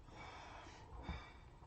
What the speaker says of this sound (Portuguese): Desculpa as fungadas aqui, mas deu uma rinite agora